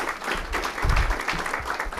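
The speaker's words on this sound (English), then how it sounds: "Give them a clap." Audience applause at a community recognition event, a steady, dense clapping from a crowd that fills the whole stretch at moderate loudness with no voices over it.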